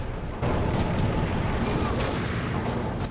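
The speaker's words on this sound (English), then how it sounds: "Weapons sound loud and impactful, explosions feel dangerous" Gunfire and explosions from the video game Max Payne make a dense, loud barrage of booms and bursts that starts abruptly and carries on without pause.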